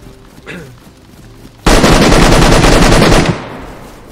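Gunfire in the video game DayZ, a loud, dense burst of rapid automatic shots lasting under two seconds, preceded by quieter game ambience with faint movement sounds and followed by a decaying tail.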